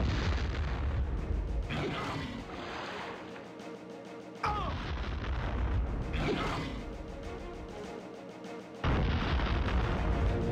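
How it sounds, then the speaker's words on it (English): Three heavy booming blasts from grenades in the 1998 shooter game Turok 2: Seeds of Evil, each a loud abrupt onset followed by rumbling, creaking decay, spaced a few seconds apart. "It might be throwing some kind of grenades or something."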